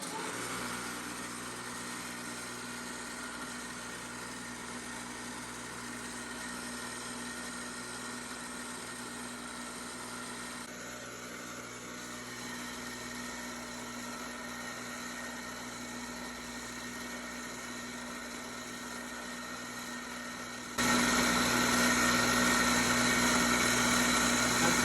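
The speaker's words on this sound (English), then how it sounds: "gonna use my drill press, which is currently just set up with a buffing wheel on it on its fastest speed." A drill press spins a buffing wheel at its fastest speed while it polishes a drum shell wrapped in figured veneer. The whine is steady and moderately loud, and it swells louder near the end as pressure changes.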